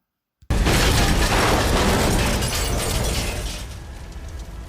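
A grenade explodes inside a car in an action film: a sudden loud blast after a moment of silence, followed by a dense, crackling roar that slowly fades, with a shattering, debris-like texture.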